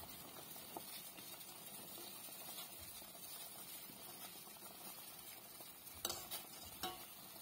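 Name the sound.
stirring malunggay vegetables in a cooking pot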